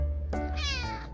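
A cat meows once, a clear, close, drawn-out call with a rising and falling pitch, heard alone with no talking.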